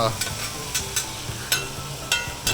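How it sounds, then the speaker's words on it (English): Vegetables for brisket chili cook down in a pan while a small spatula stirs them, giving rhythmic scraping strokes about every half second over a steady sizzle, close and fairly loud. "Just use my little spatula. Just kind of want to get these stirred up some."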